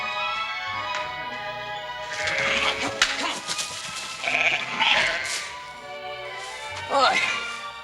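Several sheep bleat close by in a flock of a couple dozen, their wavering cries overlapping, with sharp tapping and a voice speaking through the flock noise.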